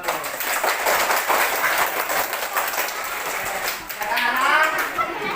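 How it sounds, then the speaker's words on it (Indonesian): A class at a workshop claps together, a dense burst of applause near the microphone that dips briefly and then swells again, with voices murmuring underneath toward the end. "beri tepuk tangan terlebih dahulu"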